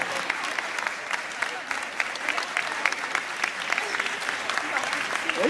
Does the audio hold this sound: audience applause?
yes